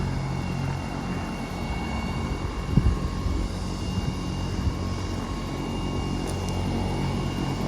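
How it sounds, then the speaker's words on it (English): Helicopters idle and spin up to leave, a steady loud rotor and turbine drone with a fine high whine, holding constant throughout with faint thumps beneath and no talking. "Sounds like the choppers are just about to leave."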